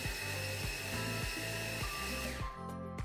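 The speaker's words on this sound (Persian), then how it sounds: "چون که صدای میکسر خیلی بالاست صدای ویدیو رو کم میکنم براتون" Kitchen mixer grinding nut paste for Dubai chocolate at home, a loud continuous motor whine with steady pulsing, close and alone, no talk.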